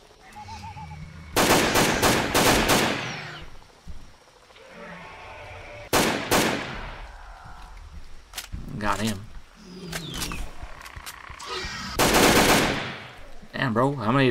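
Rapid automatic gunfire in the dinosaur survival horror game Acre Crisis, set in a Brazilian jungle, comes in three loud bursts separated by quieter stretches of creature growls, bleat-like calls and someone talking.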